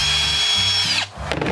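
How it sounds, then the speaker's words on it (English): A power drill boring holes in a plastic worm bin runs loud and close, its motor whining steadily for about a second before winding down, then a brief scrape and restart. "You need a drill."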